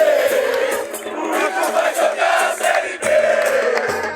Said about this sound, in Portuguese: A torcida.